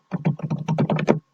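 Rapid run of about nine key clicks on a computer keyboard, close and fairly loud, typed in a quick steady burst with no talking over it.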